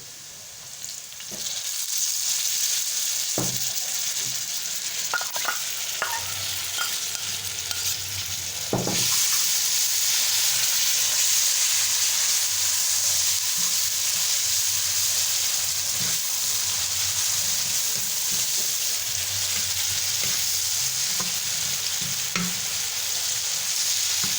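Lahori-style tawa keema frying on a hot griddle pan: a loud, steady sizzle and hiss that swells after a quiet start, broken by occasional scrapes and stirring clicks, close up with no talking.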